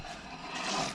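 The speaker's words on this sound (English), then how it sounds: "is the balancing weights hitting the caliper" Balancing weights on a wheel of a Mk3 Vauxhall Cavalier 2.0 fitted with V6 brakes scrape against the brake caliper, a faint, brief continuous rubbing rasp that swells slightly toward the end.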